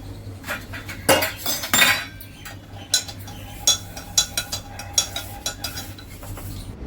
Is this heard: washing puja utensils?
yes